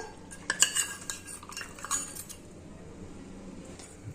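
A spoon stirs custard powder and cornflour mixture into milk in a metal pan, making a burst of light clinks and scrapes early on that settle into quieter stirring.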